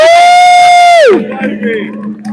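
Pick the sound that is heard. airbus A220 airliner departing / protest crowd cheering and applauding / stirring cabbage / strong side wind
protest crowd cheering and applauding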